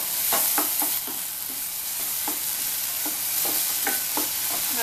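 Mushrooms fry in a pan with a constant bright sizzle, while a utensil stirs them in repeated scraping strokes that come at an uneven rhythm and sit close and clear, with no voices.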